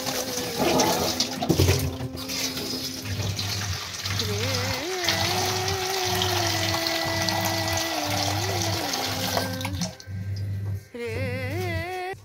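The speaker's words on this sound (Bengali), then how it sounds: "আজকে অন্যমনস্কে জলটাই ভরতে আরম্ভ করে দিয়েছি" Water runs from a tap into containers with a rhythmic, pulsing pump-like throb, while a voice and a dog's whimper sound intermittently over it.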